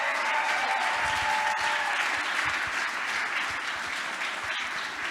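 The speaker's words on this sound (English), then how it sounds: "Give them a round of applause" An audience at a charity gala breaks into sustained, dense applause, many hands clapping steadily and loudly throughout.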